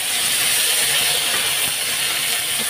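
Washed, still-wet vegetables hit hot oil in a pan, producing a loud, dense, continuous hissing sizzle that stays even and close throughout, with no talking.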